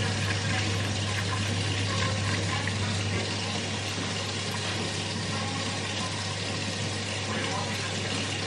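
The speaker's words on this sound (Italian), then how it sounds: "Verso l'acqua e sono riempito il secchio per lavare per terra" Tap water runs steadily into a bucket being filled for washing the floor, a constant broad rushing that stays loud and unbroken throughout, with a low steady hum beneath it.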